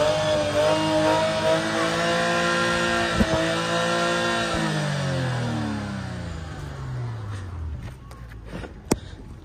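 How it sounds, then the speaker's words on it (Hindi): A BMW X7 engine revs under full acceleration, heard from inside the cabin as a rising, harmonic drone that climbs in pitch, then winds down and fades, with a couple of sharp clicks near the end. "देख मैं फुल एक्सलेटर कर रहा हूँ"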